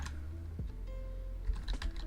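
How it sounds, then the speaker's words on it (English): Rapid typing on a computer keyboard during a game development session, with a steady run of light key clicks and a few louder taps near the end, close and clear with no talking. "so typing"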